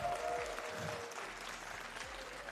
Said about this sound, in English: Please give a round of applause for Clem once more.